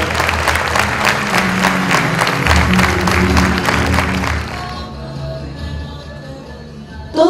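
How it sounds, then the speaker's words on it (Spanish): Loud, sustained audience applause at a school graduation ceremony at Escuela Enrique Zañartu Prieto, many hands clapping steadily for several seconds before thinning to a softer murmur and scattered claps. "Les brindamos un fuerte aplauso y los invitamos a bajar del escenario."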